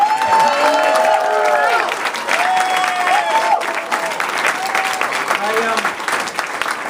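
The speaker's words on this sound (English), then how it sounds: "let's give a round of applause for our veterans" Audience applause with some cheering at a political rally for Hillary Clinton in Arlington, a dense, loud crowd clapping sustained throughout with voices and whoops rising over it.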